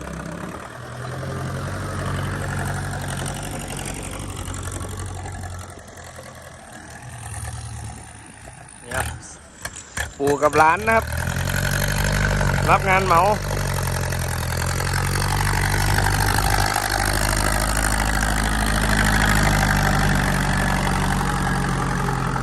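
A farm tractor engine in the Thai countryside runs steadily with a low, continuous drone, briefly dipping and catching before settling into a loud, even idle, while someone talks over it.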